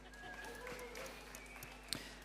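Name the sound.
audience applause for a speaker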